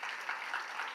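An audience claps steadily for a spiritual guru at a women's day celebration; a dense, even wash of many hands holds for about a second with no break and no voices.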